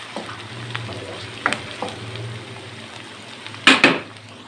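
Garlic sizzles softly in hot ghee. The frying is faint and steady, broken by a few light stirring scrapes and a louder clatter of a utensil near the end, with no talking.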